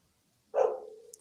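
A single short bark from a dog, fairly faint and heard alone, tailing off quickly.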